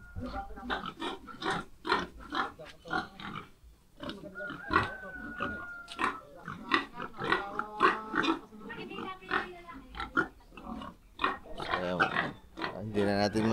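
Pigs grunt and squeal at a market during shopping for fiesta food, with snorts scattered throughout and nearly constant human chatter over them.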